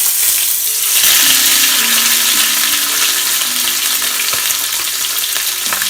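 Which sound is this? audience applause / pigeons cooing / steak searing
steak searing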